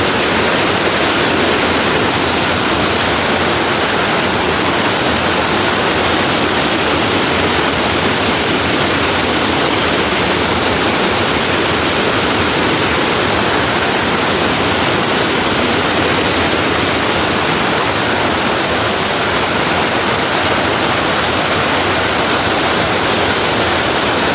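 Sap Sa Kaeo waterfall at Ban Khao Phluang, Bueng Sam Phan, pours in a loud, steady broadband roar that holds unchanged throughout, with no voices over the rushing water.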